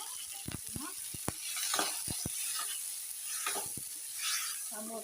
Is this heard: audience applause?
no